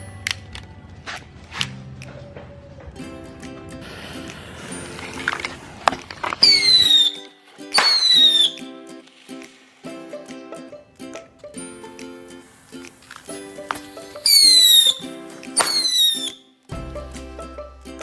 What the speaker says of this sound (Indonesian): ini adalah mercon tikusan dengan truk